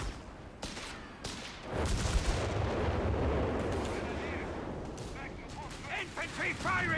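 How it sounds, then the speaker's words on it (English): Small-arms infantry gunfire in the World War II strategy game Company of Heroes 3 during a 4v4 tank battle, a sustained dense crackle of rifle and machine-gun shots with some heavier booms. "Infantry firing on us!"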